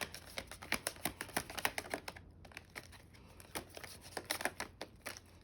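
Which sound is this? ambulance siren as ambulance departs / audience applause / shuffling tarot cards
shuffling tarot cards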